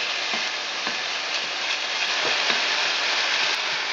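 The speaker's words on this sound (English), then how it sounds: "Go ahead and add your garlic. And after you've browned your ground beef, we're going to mix it all in" Browned ground beef and garlic sizzle steadily in a pot on the stove for chili, a continuous close frying hiss broken by soft scraping stirs every second or so.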